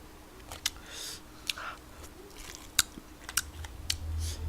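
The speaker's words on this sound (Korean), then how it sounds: "한 입 맛있게 한번 먹어드릴게요" Someone eats spicy Yeopgi tteokbokki up close, with soft wet chewing and several sharp clicks and bites scattered over a quiet background, with no speech.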